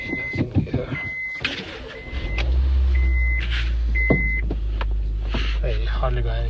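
A car runs after a clutch repair, its engine settling into a steady low rumble after some clanks and voices, while repeated electronic beeps chime and people talk throughout.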